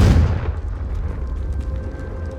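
A Confringo blast spell bursts in Hogwarts Legacy, a loud explosive boom at the start that decays into a rumbling, crackling tail.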